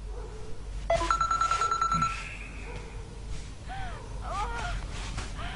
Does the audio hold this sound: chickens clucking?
no